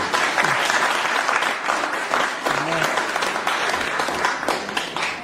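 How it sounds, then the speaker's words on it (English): Audience applause at a radio show event, steady clapping that fills the room throughout with some voices mixed in underneath. "So let's give a round of applause for him."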